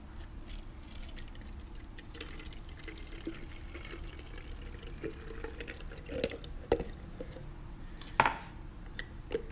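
A cup of water poured into a bottle while mixing a homemade fabric softener wrinkle-release spray, heard as a faint, continuous trickle with a few small drips and splashes, plus a louder clink near the end.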